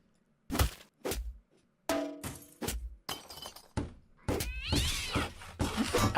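A house cat meowing amid a scuffle, several sharp cries and thumps in quick irregular bursts, followed by a longer wavering yowl mixed with clatter and crashing sounds, close and loud.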